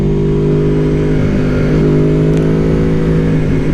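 Loud, close engine of a 2018 Aprilia-style Tuono Factory naked motorcycle fitted with an Akrapovic slip-on exhaust, pulling hard under throttle with a steady, rising growl throughout and no talking.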